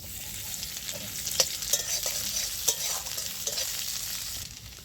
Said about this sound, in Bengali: এখানে দিয়ে দিচ্ছি একটু পেঁয়াজ